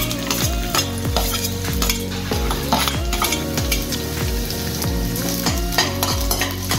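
Garlic sizzles in hot oil in a kadai for chilli momos, a loud continuous fry with stirring clatter close by, under a repeating melodic background, no talking.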